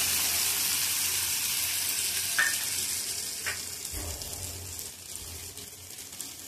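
Onion, garlic and masala sizzle in a pan for masoor dal, with a bright, steady frying hiss that fades slightly over time, broken by a few brief clinks of a spoon against the pan.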